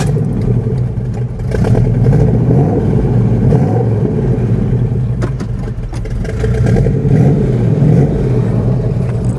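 A V8 engine in a swapped Pontiac Fiero, which has an overheating fault, rumbles loudly and continuously at idle with a rough clattering texture, close by, with slight swells in level.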